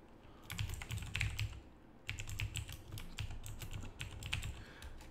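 Steady typing on a computer keyboard at close range, with bursts of rapid key clicks and one brief pause before the tapping resumes.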